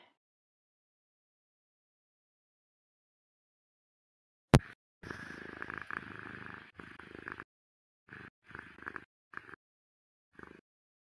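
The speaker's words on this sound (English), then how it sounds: "That is a cat purring." A cat purrs close to the microphone after a sharp click, a soft rumbling drone in short bursts with gaps, quiet overall.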